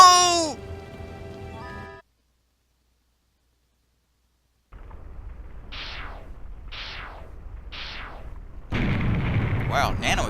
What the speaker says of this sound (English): Wow, nano explosions are cool.